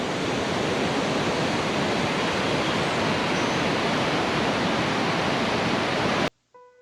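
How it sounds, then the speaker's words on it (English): Tumwater Falls, a town-park waterfall in Washington, pouring out a loud, dense, steady roar of rushing water with no voices, cutting off abruptly near the end. "to see the Tumwater Falls"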